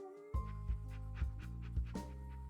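A dog in the video game Cadence of Hyrule pants steadily over the game's looping music, with rhythmic breathy puffs roughly every half second, near and clear.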